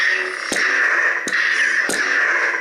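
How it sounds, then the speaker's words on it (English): Three sharp, bright crackling clashes from an Ultrasabers Manticore lightsaber blade, spaced evenly over a constant loud electronic hum, close and with no voices. "but you can hear the clash sound"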